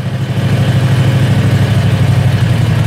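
A Predator 670cc engine struggling to settle into an idle, a loud, close, steady low chugging with an even pulsing rhythm throughout and no voices.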